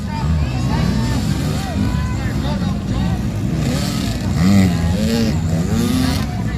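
Dirt bike motorcycles race through thick mud, their engines droning and revving in rising and falling pitch, loud and close, beneath a commentator's voice and crowd babble.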